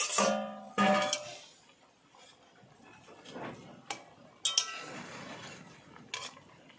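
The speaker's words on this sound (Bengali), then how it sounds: "বন্ধুরা, 5 মিনিট পর আমি ঢাকাটা খুলে নিচ্ছি।" A pot lid lifted off a pot of raw mangoes boiling on medium heat, giving a few metallic clanks and clinks up close, then quieter rattling and a soft bubbling hiss.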